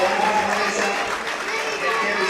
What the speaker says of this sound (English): And all the fans clapping, encouraging the team.